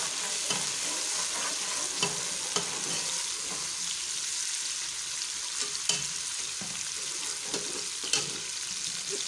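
Onions sizzling in hot oil in a pan for kala chana shorba curry, a steady close-up hiss and crackle with occasional soft stirring clicks and no voices.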